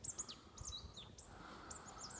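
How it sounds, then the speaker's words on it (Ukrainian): Small birds chirp and tweet in a late-winter forest, several short high calls scattered over a faint, quiet outdoor background with no talking. "Пташки співають, бруньки на деревах з'являються."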